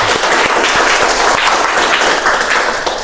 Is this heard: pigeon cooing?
no